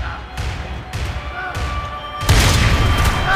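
Gunfire in a Max Payne 3 multiplayer match, heavy booming shots and thuds that grow denser and louder toward the end, with no speech over them.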